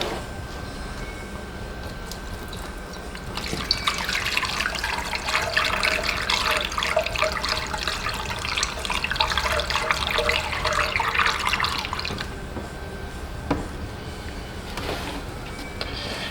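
Water pours steadily into the engine block of a Buick LeSabre, a continuous splashing flow that rises after a few seconds, holds for about nine seconds, then eases back to a quiet background.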